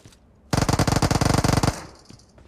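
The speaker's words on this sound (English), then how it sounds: "Oh, you gonna shoot at me, bro?" Rapid automatic gunfire in the mobile shooter game PUBG Mobile: one loud, close burst of about a dozen evenly spaced shots lasting just over a second, then quiet.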